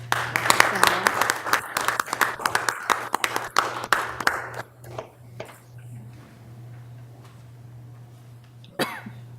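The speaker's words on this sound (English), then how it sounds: "How about a round of applause for" Audience applause at a school board meeting, a burst of scattered clapping that fades after about four seconds into quiet room murmur, with a cough and light movement later on.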